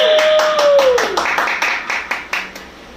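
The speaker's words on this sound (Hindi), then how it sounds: "जोर से तालियां होनी चाहिए।" An audience claps at a birthday celebration during a music show. A sliding tone fades at the start, then loud, evenly spaced claps pick up and continue steadily.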